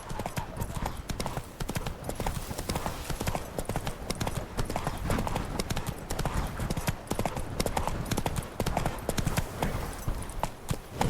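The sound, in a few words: horse Roach hooves clip-clopping, from video game The Witcher 3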